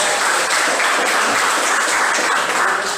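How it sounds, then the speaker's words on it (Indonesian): Classroom applause after a student group presentation on globalisation: a continuous wash of many hands clapping together, steady and fairly loud throughout, with no voices standing out. "kita berikan tepuk tangan"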